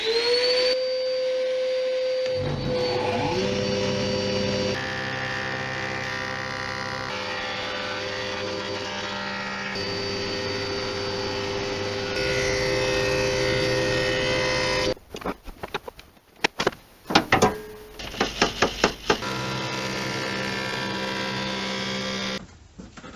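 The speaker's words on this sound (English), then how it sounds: "I got myself some rough sawn Sapele and got to milling it up." A woodworking machine mills rough sawn Sapele timber. A loud, tonal motor hum and roar shifts pitch as boards feed through, then gives way to short, intermittent bursts of cutting noise near the end.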